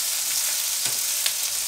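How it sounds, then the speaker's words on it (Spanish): Tomatoes toast in a frying pan with a little oil while making mole, giving a steady close sizzle throughout, with a couple of brief stirring or turning clicks and no talk. "Le voy a dar vuelta a los tomates para que también por el lado de la pielecita se vayan tostando, se vayan acitronando."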